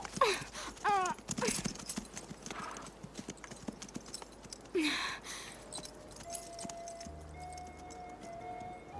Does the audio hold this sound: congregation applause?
no